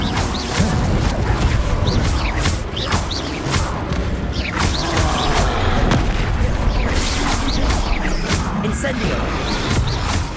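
Repeated Incendio fire spell blasts in the Hogwarts Legacy game crackle and boom in dense bursts, mixed with thumps and clatter and a voice speaking over the action throughout.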